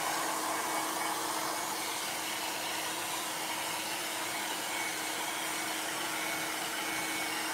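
A hair dryer runs continuously with a steady, loud whooshing whir that never changes pitch.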